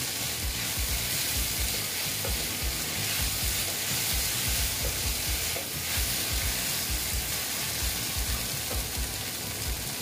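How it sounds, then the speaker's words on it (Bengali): Okra and egg frying in a pan with a little cumin powder, a steady close sizzle with scraping stirring strokes running throughout for the whole stretch, no voices. "তারপরে আমি দিচ্ছি এখানে অল্প জিরের গুঁড়ো দিয়ে আবার আমি একটু নেড়ে চেড়ে নিচ্ছি"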